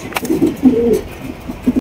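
King pigeons coo in a low, soft, throaty warble, a few rolling coos close by with a brief sharp rustle early on, in a pigeon seller's loft.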